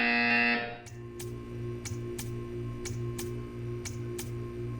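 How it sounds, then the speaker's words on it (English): A buzzer in Portal 2 sounds loudly at first as a harsh electronic tone, then gives way to a steady hum with regular ticking clicks about every half second. "You will hear a buzzer."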